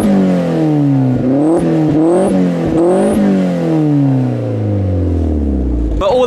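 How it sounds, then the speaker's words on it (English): A Vauxhall Astra VXR engine revs up hard several times in quick succession, loud and close, each rise falling back before the next, then a long winding-down drone. "One quick thing I forgot to show you is me revving it up."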